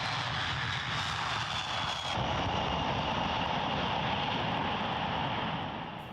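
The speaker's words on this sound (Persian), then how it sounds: "این بمب افکن‌های B-52 از پایگاه‌های آمریکا در بریتانیا و قطر پرواز می‌کنند" B-52 bomber flying, a steady loud broadband engine roar that holds throughout with a faint high whine, a slight shift in tone partway through, then a gradual easing at the end.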